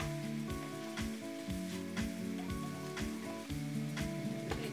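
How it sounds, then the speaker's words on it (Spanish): Chinese-style rice with bean sprouts stir-frying in a pan, a steady close sizzle broken by regular scraping and tapping strokes of a utensil, with no voices. "Le coloco raíces chinas al gusto y vamos revolviendo con el resto de los ingredientes."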